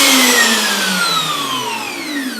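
A wood router mounted under a homemade router table whines loudly as it is switched on, its high motor tone sliding steadily downward over a few seconds, heard alone.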